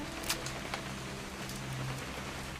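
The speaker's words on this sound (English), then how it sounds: "It's gonna rain the whole weekend, isn't it?" Soft, steady rain patters on surfaces in the video game What Remains of Edith Finch, a faint continuous hiss with a few scattered drops.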